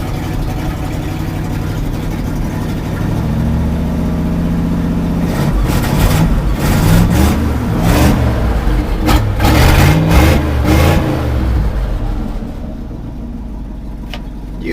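A 1960 Chevy truck's 283 V8 runs after a three-week cold start, a loud, rough idle that rises into several revs around the middle before settling back down.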